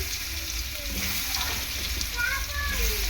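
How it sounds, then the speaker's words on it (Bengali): Potato pieces fry in hot oil in a wok with a steady, dense sizzle and faint bubbling. A muffled voice may sit underneath. "কড়াইতে দেখো তেল দিয়ে দিয়েছি তেলটা খুব ভালোভাবে গরমও হয়ে গিয়েছে তো আমি একে একে সমস্ত আলুগুলো এরকমভাবে দিয়ে দিচ্ছি দেখো"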